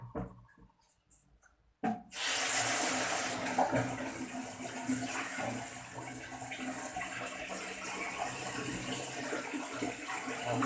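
Water gushes and splashes steadily while a school bathroom is washed, starting abruptly after a couple of seconds of quiet rustling, then continuing as a loud, close, sustained rush.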